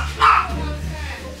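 A dog gives a single short, fairly close bark near the start, set against steady low background hum in a home.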